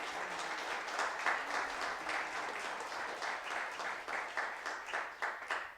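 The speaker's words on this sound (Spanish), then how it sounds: "Dale el aplauso de bien al Señor." A church congregation claps together, fairly faint and distant, a continuous wash of many hands with a slightly rhythmic pulse toward the end, no voices over it.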